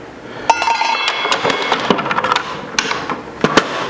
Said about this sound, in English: I'm going to pop in the riving knife that has the integrated blade guard